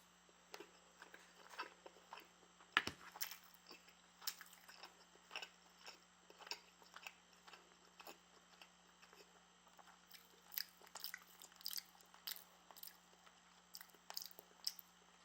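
Someone eats cooked ground pork seasoned with fish sauce, white wine and hot sauce, with soft, irregular bites and chewing close to the mic in a quiet room and no talk.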